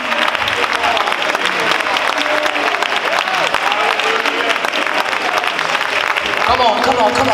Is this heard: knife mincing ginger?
no